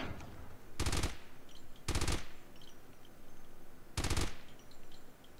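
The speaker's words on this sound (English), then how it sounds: "And this is the halberd. It shoots 5 bullets, right?" Three separate bursts from the Halberd gun in COD Mobile, each a quick rattle of several shots, with quiet pauses and faint game ambience between them.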